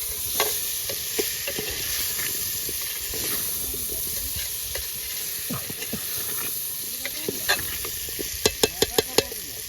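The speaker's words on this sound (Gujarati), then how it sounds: "હવે આપણે મિક્સ કરી નાખીએ તો આપણે મિક્સ પણ કરી રહ્યા છીએ" Dried shrimp and potato curry stirred in a pan, with a steady close sizzle under repeated scraping strokes of the spoon and a few sharp clicks near the end.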